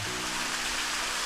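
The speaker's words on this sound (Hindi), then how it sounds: "पानी की आवाज़ आप लोगों को आ रही होगी" Steady broadband rush of a waterfall in darkness, continuous and even, with no voices or other sounds breaking through.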